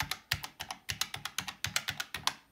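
Keys pressed on a 1970s Rapid Data Rapidman 1212 desktop calculator, a rapid run of crisp, close plastic clicks in a quick, slightly uneven rhythm, alone and fairly quiet.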